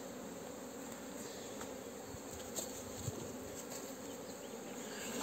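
Honeybees buzzing around beehives outdoors in April, a dense, continuous drone that stays steady and fairly loud throughout, with a few faint knocks beneath it and no talk.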